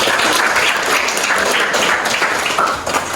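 Loud, dense audience applause after a group presentation at a teaching certification session, steady clapping filling the room without pause.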